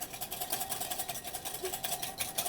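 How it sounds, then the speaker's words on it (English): A whisk beats olive oil and other ingredients in a bowl in quick, even, rhythmic strokes, close and fairly loud, with a faint hum in the background. "Take your whisk. So start whisking."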